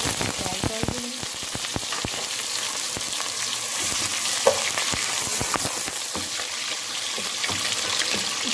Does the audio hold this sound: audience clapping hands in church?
no